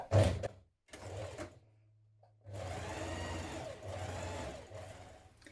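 A sewing machine runs in short bursts stitching fabric, first two quick runs with pauses, then a longer steady whirring stretch, close and clear with no talk.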